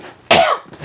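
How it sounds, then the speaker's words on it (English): A single sharp cough from a person unboxing a 13-piece stackable non-stick cookware set in a camper van, loud and close, with quiet room tone before and after. "Had to cough."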